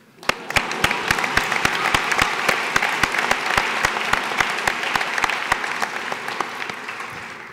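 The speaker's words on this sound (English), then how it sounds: "Clap for yourself." A graduation ceremony audience breaks into sustained applause, with sharp individual claps standing out close by over the dense clapping of the crowd.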